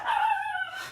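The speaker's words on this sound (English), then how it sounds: "He's got a loud bark for somebody so little." A small dog gives a single short, high, whiny yelp-like bark close to the microphone, lasting under a second, with no talking.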